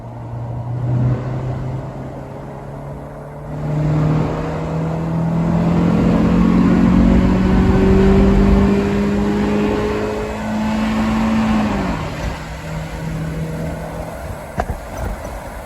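A Honda Civic EJ1 with a swapped K24/K20 engine and automatic transmission accelerates from inside, its engine note climbing steadily through long pulls with brief shift dips, loud and droning throughout.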